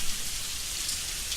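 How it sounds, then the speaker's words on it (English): Rain falling steadily, a dense, close hiss of countless drops on a surface, constant and moderately loud with no talking. "as the rain keeps dropping"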